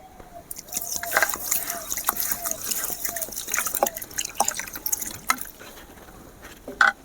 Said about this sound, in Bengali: এবারে আমি চালটা আস্তে আস্তে ধুয়ে নেব